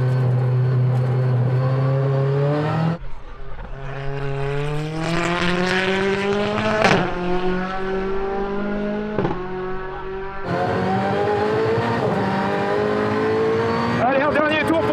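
A powerful Alpine A110 Pikes Peak engine revs hard around a winding track, pitch climbing through each gear with abrupt shift breaks, loud and close from onboard, while someone talks over it.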